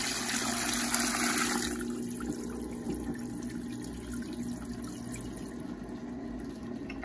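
Water poured from a bucket into a Brastemp Eggo 1 kg mini washing machine (BWI01), a bright rushing splash for the first seconds that settles into a steady lower gurgle and hum of water and the machine, with no talk.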